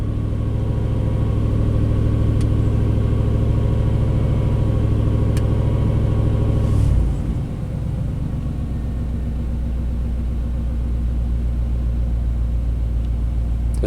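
A 1991 Chevy K1500 pickup engine idles with a steady, loud low rumble and drone, shifting to a slightly lower, rougher tone partway through and continuing evenly.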